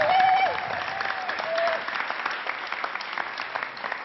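Audience applause for comedian Jamel Debbouze, a dense steady wash of clapping that fades slightly after a brief swell, with a few faint whistles and voices mixed in.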